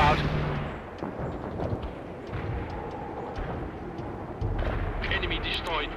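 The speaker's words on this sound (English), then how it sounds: "Payload dropped. Napalm is doing its work." Cluster bomb and napalm blasts in the real-time strategy game World in Conflict: a continuous heavy roar of explosions and rumbling fire, loud and sustained, with a deeper burst near the end under battlefield clutter.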